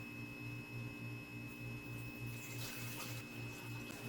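Water runs into a container being weighed for pizza dough, a faint steady pouring with a low pulsing hum underneath and no talking.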